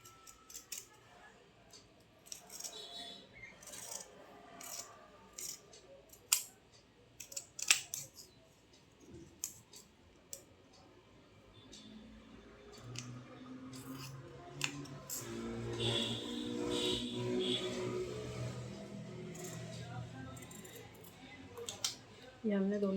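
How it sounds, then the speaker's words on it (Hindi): Scissors snip apart lined sleeve fabric pieces in a series of close, crisp cuts, with a longer run of cutting near the end and soft speech at times. "अब इसको हम काट के अलग कर लेंगे।"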